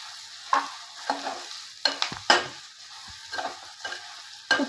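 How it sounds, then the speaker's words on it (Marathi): Okra stir-fried with besan in a pan over low heat, soft sizzling under repeated scraping stirs that come in short uneven bursts, close and fairly quiet. "आता भेंडी टाकू याच्यामध्ये। गॅस स्लो ठेवायचा आणि परतवून घ्यायचं।"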